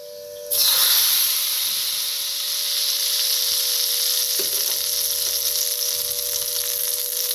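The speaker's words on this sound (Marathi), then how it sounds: "आता गरम गरम फोडणी ह्याच्यावर ओतूया।" Hot oil tempering with mustard seeds and a pinch of asafoetida is poured over a tobacco chutney. It starts with a sudden loud sizzle that goes on as a steady, close frying hiss, with faint stirring taps beneath.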